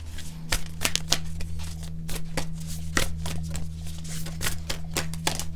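Tarot cards are shuffled close up in quick, repeated riffling bursts and sharp snaps, steady over a faint constant hum, with no voices.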